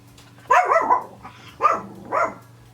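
A dog barks three or four times nearby, loud and evenly spaced, over a low steady hum.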